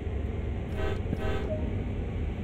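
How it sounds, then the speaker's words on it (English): Two short train horn blasts sound in quick succession over a steady low engine rumble, the second note following right after the first, in a train simulator game while reversing. "sound the horn twice"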